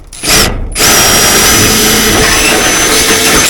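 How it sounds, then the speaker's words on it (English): A power tool, likely a cordless rivet gun, whirs loudly and steadily close by while riveting a downpipe elbow to a gutter, after a short first burst and brief pause. "Now just make sure when you're riveting these you do it from the bottom, it'll give you a neater look."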